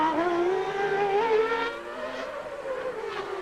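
Formula One car in qualifying at the 1990 Australian Grand Prix with Ayrton Senna driving, its high-revving engine screaming loudly and close, pitch rising and wavering through corners before easing slightly.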